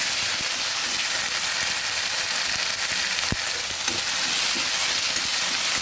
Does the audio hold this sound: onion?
yes